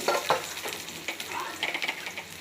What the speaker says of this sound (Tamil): கடாயில் எண்ணெய் ஊற்றிருக்கேன் இதில் கடுகு பூண்டு